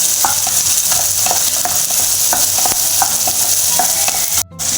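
Green chili and small pieces of ginger fry in a pan for idli chutney while a spoon stirs them, giving close, steady scraping strokes over a continuous loud sizzle, with no talk.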